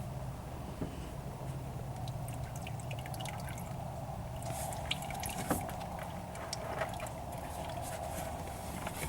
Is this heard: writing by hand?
no